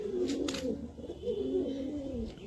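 Kaldum pigeons kept in a backyard loft give a steady run of soft, throaty coos, close by and overlapping. A couple of faint brief clicks or flutters come early on, and no one speaks.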